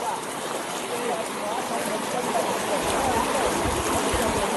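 Floodwater current streams across a submerged road near Maravanthe beach, a steady broad rushing roar that holds evenly throughout, close and continuous.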